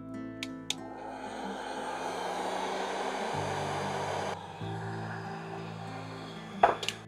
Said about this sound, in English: Now it's time to heat shrink.